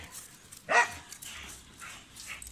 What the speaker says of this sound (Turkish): Çok güzel bir köpek oldu bu.